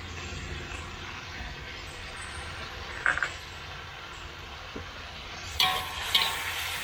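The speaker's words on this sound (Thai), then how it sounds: "พอใส่น้ำราดไปผัดแป๊บเดียวนะครับก็เอาขึ้น" Morning glory is stir-fried after sauce is poured in, giving a quiet steady sizzle with a few brief scraping clanks of a spatula against the pan.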